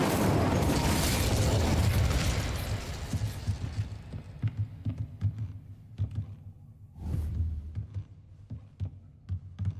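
A fire spell cast in the video game Hogwarts Legacy erupts in a loud, dense roaring burst that dies into crackling pops and small thuds, with a second fiery surge near the end.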